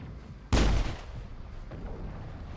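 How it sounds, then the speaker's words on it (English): Gunfire in the video game Mass Effect: a single sharp, loud shot with a booming low tail that fades over about a second into a quiet background rumble. "keep hearing shots."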